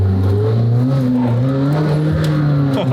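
A McLaren Senna hypercar engine runs loud and close with a steady, droning growl that rises and settles in pitch as the throttle is worked, heard alone without talking.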